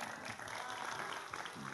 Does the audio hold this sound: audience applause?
yes